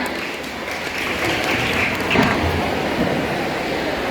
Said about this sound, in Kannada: ಜೋರಾದ ಚಪ್ಪಾಳೆಯೊಂದಿಗೆ ಸ್ವಾಗತಿಸಿ 8 ಬಿ ತರಗತಿಯ ವಿದ್ಯಾರ್ಥಿಗಳನ್ನ.